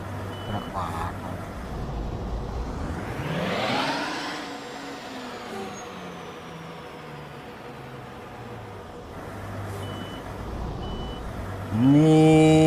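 Truck reversing beeps in Euro Truck Simulator 2 ring out in a short, loud series near the end while parking, after a steady engine drone and a rising then falling engine sweep.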